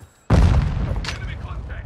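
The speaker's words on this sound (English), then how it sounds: "Throwing Semtex!" Semtex grenade exploding in Call of Duty: Modern Warfare II, a sudden loud booming blast with a rumbling tail that decays over more than a second, with in-game voices calling out over it.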